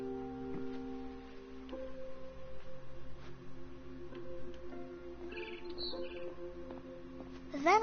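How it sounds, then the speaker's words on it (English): A barn swallow chirps outside a window in the video game What Remains of Edith Finch, a few faint high tweets over quiet ambient tones, distant and alone. "Then I heard chirping outside my window. It was a barn swallow going back to her nest."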